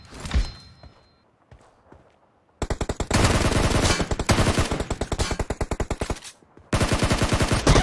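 Rapid automatic gunfire from PUBG Mobile deathmatch, loud, close bursts of evenly spaced shots that rattle in long strings, separated by a few brief pauses with light footsteps.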